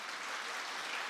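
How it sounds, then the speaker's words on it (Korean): A church congregation applauds during a Sunday service, giving a brief, even patter of clapping that sounds somewhat distant and soft. "우리 여자분들에게 한번 박수 한번 해드릴까요?"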